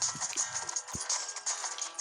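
Hooves of a horse galloping in the Western video game Six Gun, a quick steady clip-clop beat running under a bright, continuous game soundtrack, with a brief low thump partway through.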